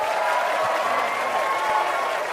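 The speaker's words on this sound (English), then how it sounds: "Give the applause." Brief burst of audience applause, dense even clapping held at a steady level for a couple of seconds with no talk on top.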